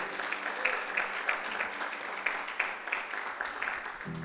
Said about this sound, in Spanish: Denle un aplauso al Señor y denle gloria a Dios.